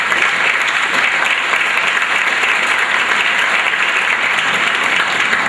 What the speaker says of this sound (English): this lady deserves a good round of applause